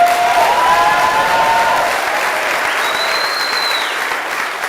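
A TEDx audience applauds, loud sustained clapping from a large crowd that gradually thins and fades over several seconds.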